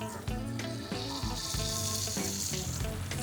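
Oil sizzles and crackles in a pan with butter while garlic chili chicken pakoda is being made, a close, moderately quiet frying hiss with a few clanks.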